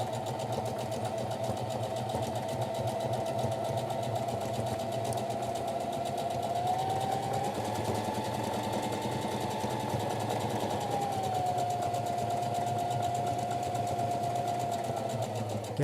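A sewing machine stitches a shirt at an unhurried pace. Its rapid mechanical chatter runs steadily and close by for the whole stretch, with a slight rise in pitch midway.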